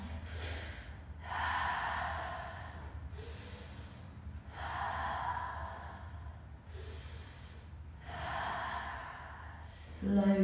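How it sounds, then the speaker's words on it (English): Slow, deep breathing during a family yoga session, three long airy exhalations spaced evenly a few seconds apart, soft and close with no talking. "Take 3 more breaths."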